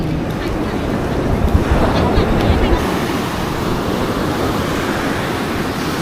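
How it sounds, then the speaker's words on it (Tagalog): Ocean waves growing bigger at Bukana, rolling surf with a broad rushing wash and gusty wind noise on the microphone, continuous and loud throughout. "Palaki na alon."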